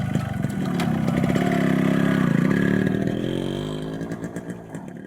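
A motorcycle engine runs with a steady, throbbing mid-pitched drone that rises slightly and then fades as it moves away, close and loud at first.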